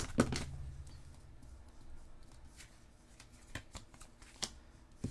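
Cards being shuffled and drawn for a tarot reading, an opening riffle followed by scattered soft flicks and taps of cards, quiet and close, with no speech.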